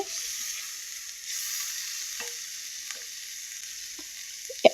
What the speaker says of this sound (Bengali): এখন আমি এগুলোকে একটু নাড়াচাড়া করে নিচ্ছি